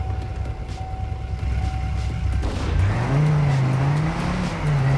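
A car races in the TrackMania 2 Canyon video game, its steady engine hum climbing into a loud rising whine as it accelerates, then holding high and revving through a drift.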